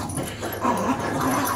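Pitbull and chihuahua tugging on a rope during play, with close, continuous growling and whimpering dog noises running through a short stretch.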